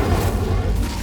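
Incendio fire spell cast in Hogwarts Legacy, a dense low roaring whoosh of flame that holds steady and loud for about a second with no gaps.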